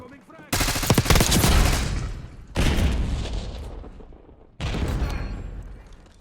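Three loud, close booms from frag grenade explosions in Call of Duty: Black Ops 6, each a sharp burst followed by a long rumbling decay, spaced about two seconds apart.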